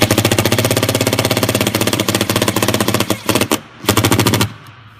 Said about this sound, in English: once you get into the threads, it'll go into the hammer effect, so you don't over tighten it